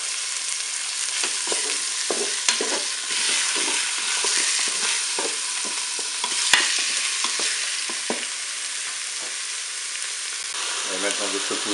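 Chopped onions sizzle steadily in a Cookeo multicooker pot, with a constant bright frying hiss broken by scattered clicks and scrapes of stirring, fairly close and with no talking.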